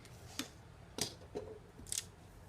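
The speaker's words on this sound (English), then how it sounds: "You're going to take your pen knife and you're going to cut at that part" A pen knife slices paper along a ruler while making small DIY notebooks, giving three or four short, close, dry scraping strokes separated by brief pauses.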